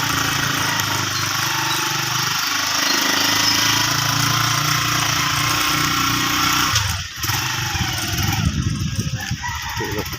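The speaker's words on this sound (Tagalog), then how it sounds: "Basta mag-umaga, malamig yung makina." A cold engine in the morning chugs and rumbles steadily nearby, then sputters and dips briefly before running on roughly with uneven knocking, prone to stalling.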